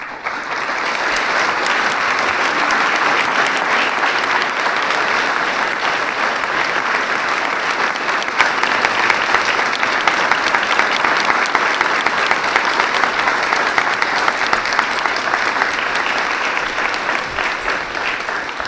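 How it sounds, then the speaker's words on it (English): Sustained audience applause at an arts medal ceremony honoring medalists, a dense, steady wash of clapping from a large crowd that holds at an even loud level throughout. "Let's give our medalists another round of applause."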